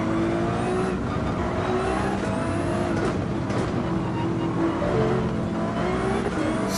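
Race cars including a Ford GT, engines droning steadily at close range in Gran Turismo 7, a continuous layered whine with pitch shifts as cars jostle, a voice talking faintly underneath.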